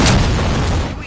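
Gunshots in the Robocop Rogue City video game come as a short, dense, loud burst of booming gunfire with no voices.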